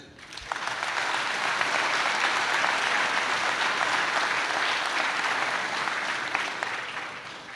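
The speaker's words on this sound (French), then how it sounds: "on peut les applaudir" A crowd at a regional inauguration in the mountains applauds a region president, steady dense clapping that swells quickly and holds evenly for several seconds.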